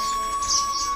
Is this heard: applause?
no